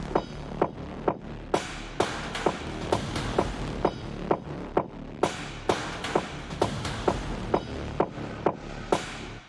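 Techno epic percussion drums from the Damage sample library, loud, hard-hitting hits landing in a steady driving rhythm with booming low end and crashing tails, no voices.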